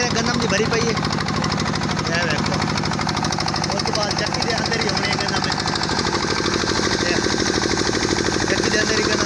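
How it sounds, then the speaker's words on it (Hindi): An engine-driven chakki flour mill grinds wheat in a village, a loud, dense mechanical clatter with rapid rhythmic knocking that continues unbroken throughout. "चक्की के अंदर ही गंदम आटे की पिसाई हो रही है।"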